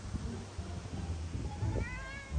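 A cat meows near the end, one rising cry over a steady rumbling background, with no talking.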